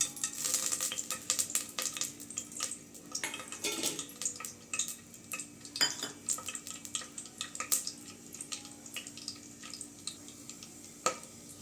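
Cinnamon and cloves fry in hot oil in a pan for chicken biryani: steady soft sizzling with crackles, pops and occasional stirring or utensil clinks nearby.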